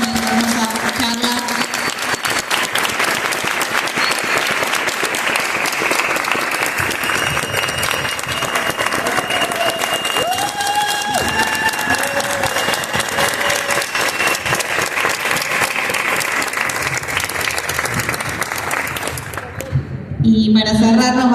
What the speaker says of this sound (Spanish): voy a pedir un aplauso más para